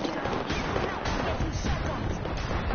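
Dense, continuous gunfire from the battle royale shooter Apex Legends, with rapid overlapping shots and impacts layered into a loud, steady wash of combat noise over a little under three seconds.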